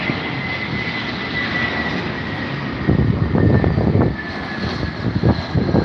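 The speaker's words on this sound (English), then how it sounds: "Only aircraft on the British Airways fleet with a red nose lands into Heathrow usually 2 or 3 times a day" A British Airways Boeing 747 jumbo jet with a red nose comes in to land at Heathrow, its engines giving a steady loud roar with a whining tone that swells over the final seconds, no talk.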